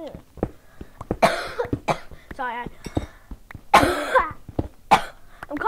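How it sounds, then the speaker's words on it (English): A person coughs a few times amid quick, animated talking, the coughs short and close to the mic. "I'm coughing."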